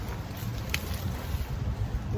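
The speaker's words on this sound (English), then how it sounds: "It's very windy." Strong wind buffeting a vegetable garden, a continuous loud low rumble of gusts against the microphone with a faint airy hiss above, steady throughout and with no voices.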